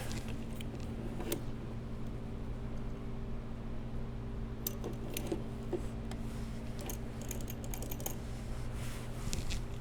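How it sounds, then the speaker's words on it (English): Old telegraph keys at a live auction are clicked in scattered sharp taps, a few isolated clicks and then a quicker cluster, faint over a steady room hum. "Telegraph keys."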